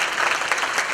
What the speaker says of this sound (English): can we give a round of applause for Dr. Bay as well?